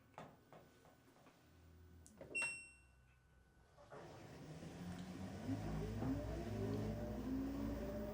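A front-load washing machine drum on a low-speed spin cycle hums steadily, then builds into a rising, whirring motor whine with faint clicks and clunks early on.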